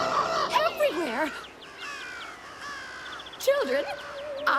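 Cartoon birds caw in harsh, warbling bursts, a cluster at the start and another near the end, with a thinner stream of chirps between them.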